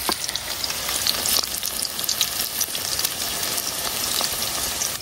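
Cauliflower pakoras battered in flour and gram flour fry in hot oil, a dense, steady crackling sizzle close up, loud and continuous with no voices.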